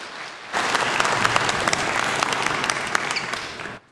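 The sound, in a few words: audience applause welcoming a speaker on stage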